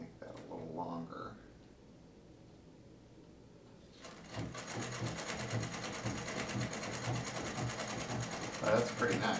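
A vintage Bel Air sewing machine starts up after a quiet pause and stitches in a steady, rapid mechanical whir, near and continuous, with a voice heard briefly before it starts.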